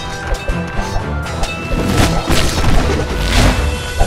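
In the tower-defense game Kingdom Rush Origins, a burning shot lands with a loud crashing boom that swells into a heavy rumbling blast, mixed with ongoing battle noise.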